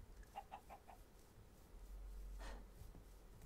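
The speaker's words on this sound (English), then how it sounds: "Not mother of God, those are chickens." Chickens in the video game Minecraft give a quick run of four short clucks, then a brief pause before another faint cluck, all quiet over a low background hum.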